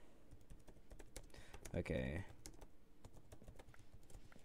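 Computer keyboard typing during a Minecraft PvP session, a rapid, uneven run of faint close key clicks throughout, with a short spoken word in the middle.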